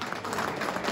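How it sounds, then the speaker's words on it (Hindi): An outdoor crowd at a farmers' natural-farming training event claps, a faint, steady patter of applause under a constant background hum. "तालियां।"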